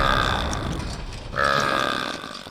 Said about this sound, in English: he can burp and fart on command